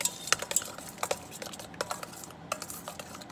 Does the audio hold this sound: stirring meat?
yes